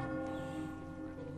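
A bell rings for lunch in a Harry Potter video game, a sustained ringing tone that holds steady through the short moment with no talk over it.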